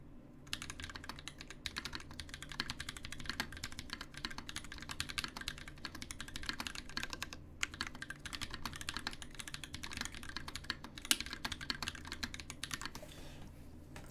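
Fast, steady typing on a Keycult No.1 Rev.1 mechanical keyboard fitted with Holy Panda switches, close-up and dense with keystrokes running throughout and no voices.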